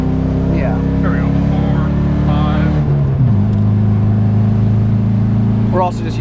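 A Nissan 240SX S14 engine drones loudly while driving, its pitch climbing through the revs and then dropping sharply at a gear shift before settling into a steady hum, with people talking over it inside the car.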